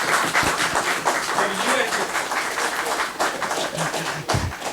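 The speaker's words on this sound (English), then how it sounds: "a big round of applause for yourselves" Audience applause after a training-practices awards presentation: continuous dense clapping at even strength throughout, fairly close, with voices mixed in beneath.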